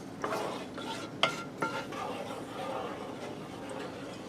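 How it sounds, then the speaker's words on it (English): A spoon scrapes spices off the sides of a pan while making a macaroni ham casserole, a few sharp metallic scrapes and taps at first, then a soft low shuffle, faint room noise underneath. "I'm scraping the sides of my pan to get them spices off"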